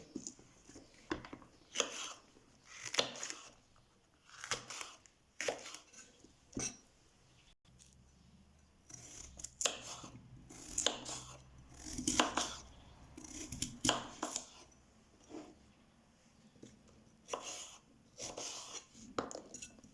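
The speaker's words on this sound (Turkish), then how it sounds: "Biberlerimi de bu şekilde doğruyorum." Crisp knife strokes chop peppers on a cutting board in uneven clusters of quick taps, close and fairly quiet, separated by short pauses.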